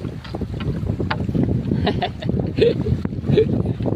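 Strong wind gusts outdoors, a steady low rumble buffeting the microphone throughout while people talk over it.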